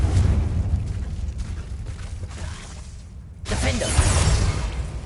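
The Confringo blasting spell goes off in Hogwarts Legacy with a loud burst and rumbling explosive crackle, then a low lingering roar, a brief quieter gap, and a second bright, fiery eruption.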